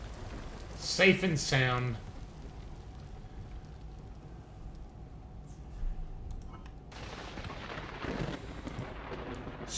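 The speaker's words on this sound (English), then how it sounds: "Spooky, spooky rain." Steady rain falls in the survival game Vintage Story, a constant soft hiss running through the whole scene, with a voice speaking briefly near the start and again near the end.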